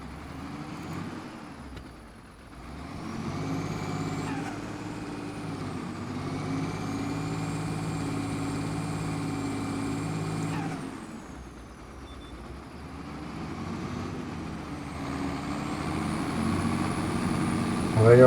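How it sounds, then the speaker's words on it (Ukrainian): A tractor pulling an Amazone cultivator works a field in Farming Simulator 25, its engine droning steadily with a shifting hum that dips and swells, while someone talks over it throughout. "дуже файний трактор з цим культиватором. Амазони це, друзі, офігенна річ."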